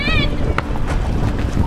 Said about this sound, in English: Very windy all of a sudden.